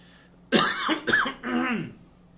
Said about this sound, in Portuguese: Ô, tosse miserável.